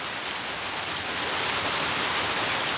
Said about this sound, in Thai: อ่าฝนก็ตกพอประมาณเนาะ